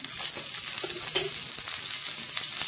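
Chickpeas being sautéed in a little oil after light roasting make a close, steady sizzle, with a few soft stirring scrapes over the hiss.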